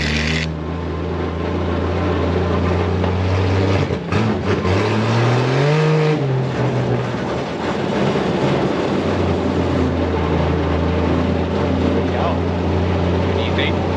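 A 1963 Ford Falcon ute engine revs and drives on a private road. Its steady, loud droning note rises and falls through a rev sweep, with talk over the motor.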